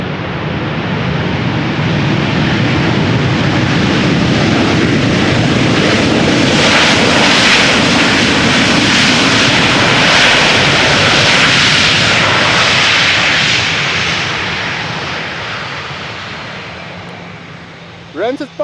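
A Transavia jet airliner arriving from Ibiza at Amsterdam Schiphol roars loudly overhead as a broad, sustained engine rush that builds, holds, then slowly fades away, with no talk.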